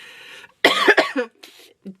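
A couple of harsh, close coughs burst out, the first loud and rasping, followed by a smaller cough a moment later.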